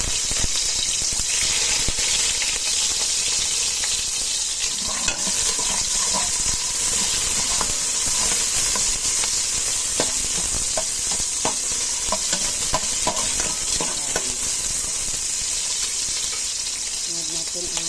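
Onions sauté in a hot pan while being stirred, giving a loud, continuous sizzle and hiss with faint scraping and clinking of the utensil throughout.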